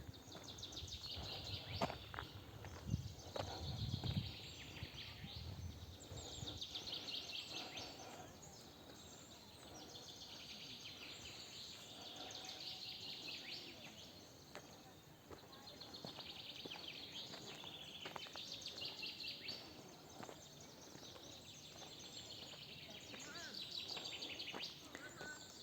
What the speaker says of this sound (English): Let's hear the birds.